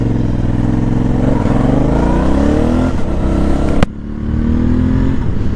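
A warm motorcycle with its stock exhaust and small rear deflectors revs hard and close, the engine note climbing through rising pulls before a sudden cut and a settling idle.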